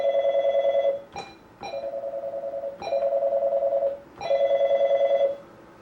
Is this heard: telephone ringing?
yes